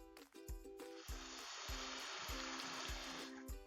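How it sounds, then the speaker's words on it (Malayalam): Garlic pickle made with vinegar sizzles faintly in a pan as it is stirred. The hiss stays steady, with regular soft scraping strokes and no talking. "ഒന്നുകൂടെ ഒന്ന് ഇളക്കി കൊടുക്കുക"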